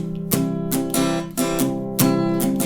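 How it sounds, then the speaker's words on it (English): Muted acoustic guitar strums in a steady rhythm, each stroke a short damped chord with a soft thump, played close and alone. "when you strum, it has more of a muted sound"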